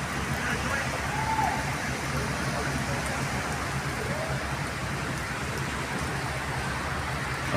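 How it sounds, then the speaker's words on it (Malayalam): Steady rain falling, a dense even hiss of drops on surfaces that runs without a break, close and continuous. "ഇന്ന് ഇങ്ങനത്തെ ഒരു മഴൻ്റെ ഒരു വീഡിയോ ആയിക്കോട്ടെ"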